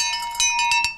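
A small bell found in an abandoned storage unit rings sharply several times in quick succession, each strike close and bright over a steady metallic hum.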